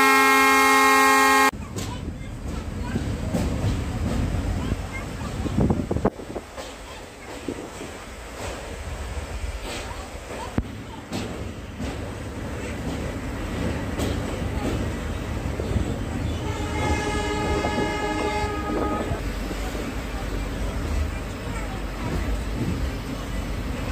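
A train horn sounds at the start of a long train journey from Maibong to Silchar, then loud steady rumble and clatter of a moving train, with a later tonal horn or whistle, close and continuous.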